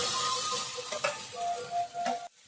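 A spice mixture with milk fries in a pan with a soft, steady sizzle, broken by a few light clinks of stirring, before the sound cuts off near the end.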